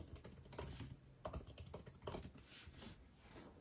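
Typing a password on a computer keyboard while setting up an Apple Mac migration, with quiet, close, irregular key taps under a soft background hiss and no talk.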